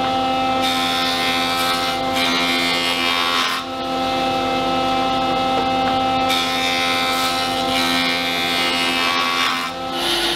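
Planing one face and one edge of bookmatched wood blanks for a guitar body: a continuous loud whirring machine tone with rough rushing cutting noise, swelling and easing in several passes, no talking.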